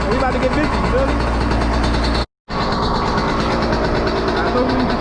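A Yamaha YZ 125 two-stroke dirt bike engine idles close by with a loud, steady, buzzy drone that drops out briefly midway.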